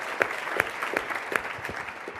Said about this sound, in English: So if we could just get a quick round of applause for Charles Hudson and David Sachs.